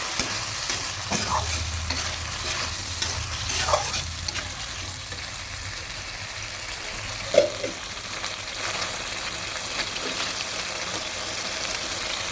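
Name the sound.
stirring soaked rice into fish head curry in pan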